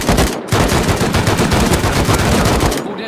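Rapid automatic gunfire in a multiplayer shooter game, a loud, continuous burst of closely spaced shots with a brief break near the start, sharply cutting off at the end, with no talk over it.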